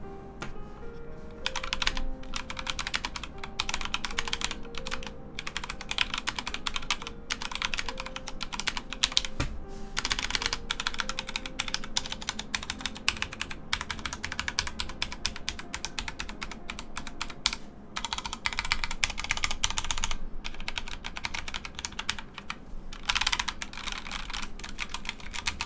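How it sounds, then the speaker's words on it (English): Steady, continuous typing on a Vortex Tab 90M mechanical keyboard with Cherry MX Silver switches, a dense run of light keystrokes with a few louder clacks, close and alone with no voices. "a quick sound test of the"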